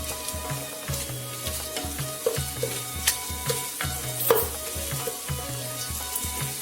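Spice powder and bay leaf frying in hot oil crackle continuously while a spoon knocks and scrapes the pot in a busy, uneven rhythm; close and fairly soft, with no talking.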